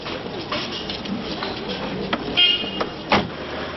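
Busy Istanbul street traffic with a taxi among the cars, a steady road rumble punctuated by short car horn toots, two of them louder near the end.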